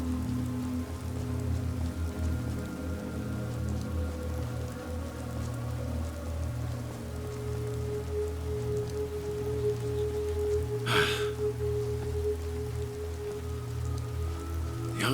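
Steady rain patters continuously across a video game landscape on the outskirts of Solitude, a constant wash of falling drops over a low ambient drone, with one brief sharper burst partway through.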